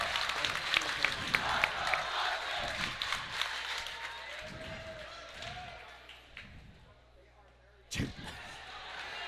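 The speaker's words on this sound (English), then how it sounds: "Round of applause for Lucy Belil for showing up today." Clapping and crowd noise rise in a gym during a girls' playoff basketball game, with scattered sharp slaps and ball bounces and a loud thump near the end, all under an announcer's voice.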